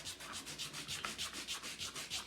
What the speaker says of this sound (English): I take an old toothbrush, an old clean toothbrush,